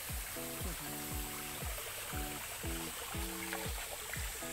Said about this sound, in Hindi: ये नालियों के अंदर पानी यहीं से जा रहा है पूरा, इधर से दलकर इधर आ रहा है पूरा।